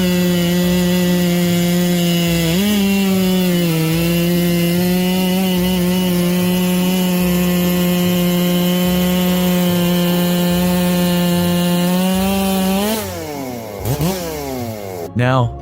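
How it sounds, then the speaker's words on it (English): An MS 880 Magnum chainsaw cuts through fallen trees, its engine holding a loud, steady buzzing drone close by. Near the end the revs dip and climb sharply through a few quick throttle swings. "The Ms. 880 Magnum not only gets the job done fast, but ensures precision with its anti-vibration system"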